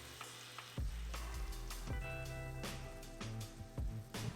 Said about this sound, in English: cook it for another minute while stirring occasionally